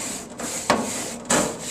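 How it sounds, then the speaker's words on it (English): A wire grill brush scrapes across a hot grill grate, two sharp rasping strokes standing out over a steady low hum, close and fairly loud. "So I just do this, scrape everything off, get the grill clean."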